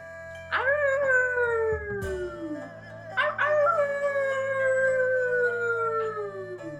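A person's voice imitates a werewolf howl: two long, drawn-out howls that start high and slide downward, loud and close, with a short break between them.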